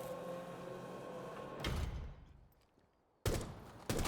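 Gunshots are fired at a target in Rainbow Six Siege, two loud sharp single reports separated by quiet, each with a short reverberant tail, and a faint third hit at the end.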